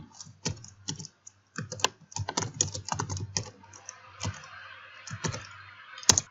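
Fingers typing a name on a computer keyboard in MS Word, with bursts of quick, close key clicks separated by short pauses, a few heavier key taps standing out.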